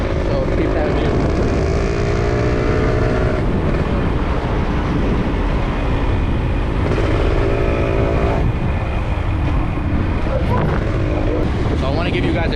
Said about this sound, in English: give you guys a tour through the hood on the motorcycle